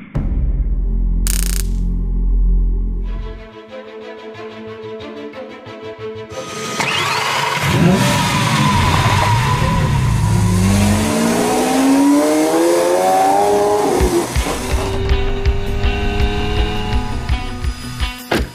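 A Lamborghini Aventador SV V12 bursts into a loud, rising rev while being driven, climbing in pitch through the gears as a snarling roar that dominates the scene, alone without voices.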